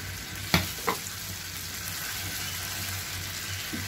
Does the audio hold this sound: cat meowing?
no